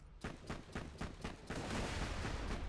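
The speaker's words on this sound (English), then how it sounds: "Shoot the nukem now." Nukem rocket launcher from Borderlands 2 firing a rapid run of explosive shots, about eight sharp blasts in quick rhythm that blur into a dense, continuous roar of detonations, close and fairly loud, with no talk over it.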